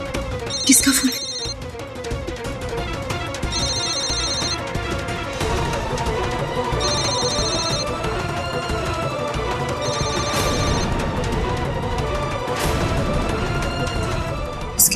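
A telephone rings in repeated short electronic trilling bursts at a steady pace over dramatic background music, with talk present in the scene.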